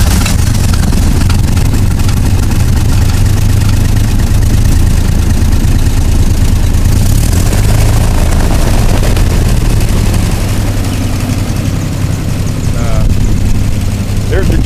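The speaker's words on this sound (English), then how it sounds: "I'll start it up here and see how easy the thrust engine starts." A thrust engine runs loud and close, throbbing steadily at a low pitch with a dense, rumbling drone that holds throughout, and a faint voice sits under it.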